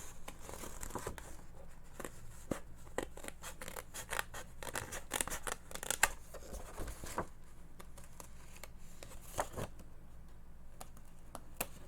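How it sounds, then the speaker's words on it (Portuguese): Small scissors snip repeatedly at material, a long run of quiet, close, irregular cuts with faint rustling between them and no talking. "eu vou finalizar com a tesoura"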